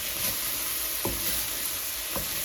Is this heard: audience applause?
no